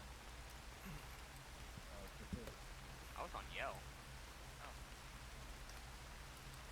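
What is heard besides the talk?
heavy rain in a video game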